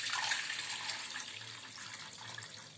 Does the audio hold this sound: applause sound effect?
no